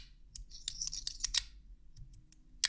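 A mini bulletproof shield slider fidget toy by WanWu Studio clacks as it slides, a few quick clicks and scraping bursts close up, then a single sharp clack after a pause.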